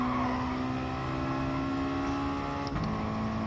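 Race car engine in Gran Turismo Sport holding a steady, loud drone with a sustained tonal whine throughout, a slight shift in pitch near the end as it keeps accelerating.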